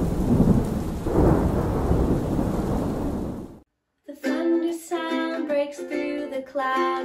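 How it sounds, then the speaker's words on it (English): Heavy rain pours down with deep rolling thunder, loud and close, for several seconds, then cuts to a brief silence before bright tuneful music begins. "The rain starts pouring and all of a sudden there's a flash of light in the sky."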